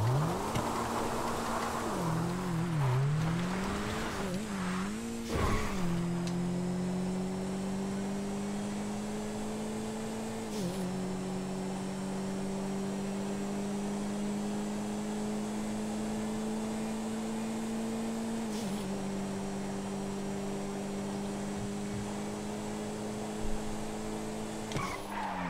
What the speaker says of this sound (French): On entend le turbo comme si on était dans une Sultan RS, quoi.